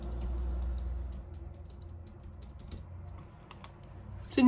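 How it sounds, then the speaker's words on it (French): Keys clatter in a steady, close run of typing on a computer keyboard at a desk setup, heard alone, with a louder thump at the very end. "Là, je vais écrire avec le clavier."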